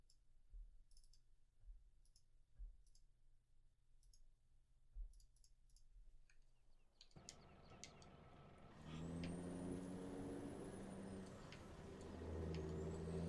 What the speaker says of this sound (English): This truck here's got a ton of power.